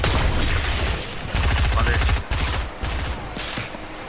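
Gunfire in the video game Fortnite, dense bursts of rapid automatic shots, loud and close, with brief gaps between volleys and a voice heard faintly.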